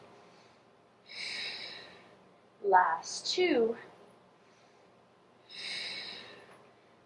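Heavy exhalations during exercise, three breathy puffs spaced a few seconds apart, with a brief spoken phrase between them.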